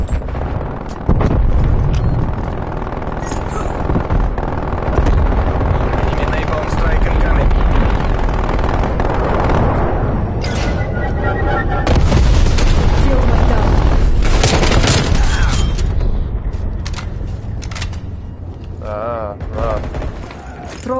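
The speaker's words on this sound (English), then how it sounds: "That's not a sentry turret, that's a minigun. Oh, that's the sentry gun." Heavy automatic fire from a minigun and a sentry gun in a video game, with sustained dense bursts, booms and rattling over more than twenty seconds, loud and close, with voices talking over the barrage.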